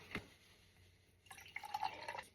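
Milk is poured into a cup of coffee at a home kitchen coffee bar, with a brief drip first and then a soft trickling fill near the end, quiet and close.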